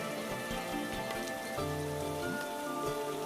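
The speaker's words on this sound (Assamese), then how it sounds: "বাহিৰত আকৌ এজাক বৰষুণৰ আৰম্ভণি" Rain beginning to fall at midnight, a steady, close patter on a surface that runs throughout beneath soft, sustained background music.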